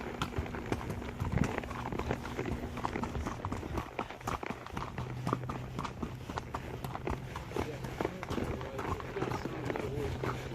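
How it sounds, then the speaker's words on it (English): Horses walking a wilderness trail near Mount Rushmore, their hooves clopping in an uneven steady rhythm over loud outdoor wind and rustle, with people talking nearby. "we can ride the horses up to a certain spot up here."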